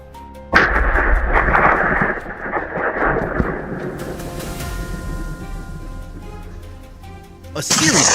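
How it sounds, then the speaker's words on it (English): A sharp blast opens a run of gunshots during a wild boar hunt in cold mountain brush, rumbling and echoing, then more cracks near the end, with a voice talking over it. "A series of shots rang out,"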